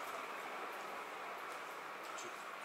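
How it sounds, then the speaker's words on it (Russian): An electric fan running slightly noisily in a villa bedroom, a faint steady whooshing hum without any change across the short stretch. "Вентилятор."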